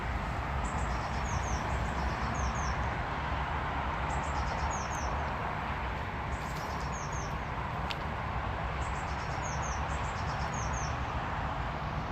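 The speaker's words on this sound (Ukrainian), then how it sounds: "пташечки гарно співають." Birds sing beside a river in Ireland, repeated bright chirping phrases at moderate distance over a constant broadband rush of flowing water, with no speech.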